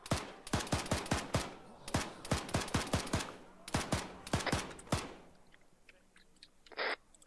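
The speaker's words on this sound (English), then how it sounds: "They should also hear those gunshots by now" Video game gunfire in a multiplayer match rattles off as rapid, sharp, close shots in quick bursts over about five seconds, then gives way to quiet ambience and a brief hiss.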